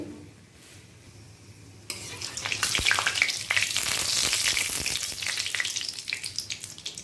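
Whole spices (three dried red chillies, three cardamom pods, lightly crushed cloves and cinnamon) hitting hot oil on a high flame: a quiet start, then a sudden loud sizzle and crackle with stirring scrapes that continues steadily.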